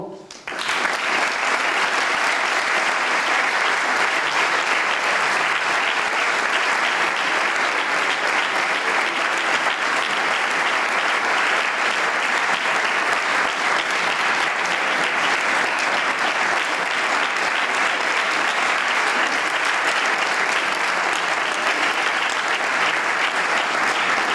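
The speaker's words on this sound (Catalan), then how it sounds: "començarem rebent en un fort aplaudiment a Andrés Asensio, que s'incorpora amb el trombó" Strong, sustained applause from a concert audience at a 25th-anniversary performance of a town band in Bocairent, welcoming a new trombonist, dense and loud clapping that continues unbroken for over twenty seconds.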